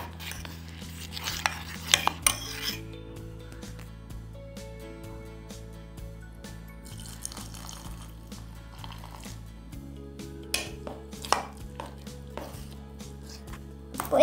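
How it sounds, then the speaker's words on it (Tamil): A spoon mixing biscuit cake batter in a bowl makes scattered clinks and soft scraping strokes against the bowl, set under steady background music. "இதை நல்லா மிக்ஸ் பண்ணிக்கலாம்."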